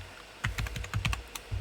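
Keystrokes on a computer keyboard as a short command is typed, about eight sharp clicks in an uneven burst, close and clear with no talking.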